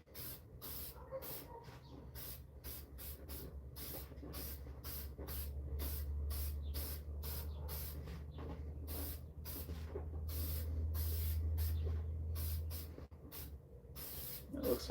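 A coat of finish is sprayed onto assorted wood pieces in many short, close hissing bursts in a quick regular rhythm, with a low steady hum from a sprayer or compressor underneath.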